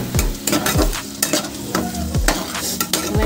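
Spices including cumin and Kashmiri chilli powder sautéing with a splash of water in a pan for pabda fish curry, loud close sizzling with repeated spatula scrapes in a steady rhythm.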